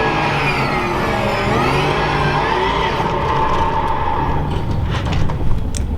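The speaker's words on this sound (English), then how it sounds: "we're doing a full-on burnout" A car in a drift racing simulator game holds a loud, sustained burnout, its engine droning at high revs with a wavering pitch that eases slightly toward the end.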